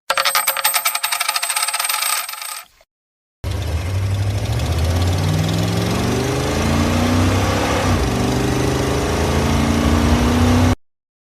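A car engine runs steadily and close, its pitch rising and falling as it revs, after a brief burst of metallic clatter.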